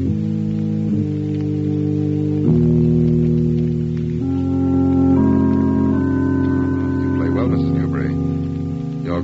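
A strange, nameless piece of music played on an organ, its sustained chords shifting every second or two in a steady, fairly loud stream with no talk over it.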